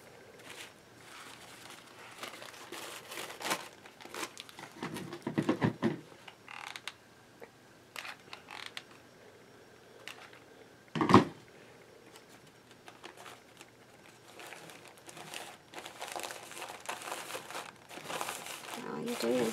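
Coffee filters are shaped onto a wreath, giving close papery crinkling in scattered bursts with one sharp crunch partway through, under quiet, intermittent talk.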